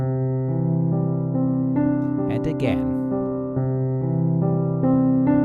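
A piano's left hand repeats a steady pattern of sustained low chords that shift every second or so, while a voice briefly speaks over it.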